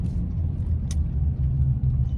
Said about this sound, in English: There's enough road noise.